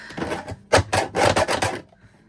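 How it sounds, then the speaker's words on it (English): A paper trimmer slices through paper in a few loud, close scraping strokes, a rough rasping run of cuts lasting under two seconds before things go quiet. "that trimmer is so loud"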